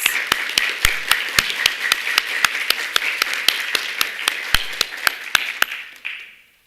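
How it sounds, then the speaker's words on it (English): Sharp hand claps in a steady, evenly spaced rhythm, crisp and close, continuing for several seconds before fading out. "Please give them a big round of applause."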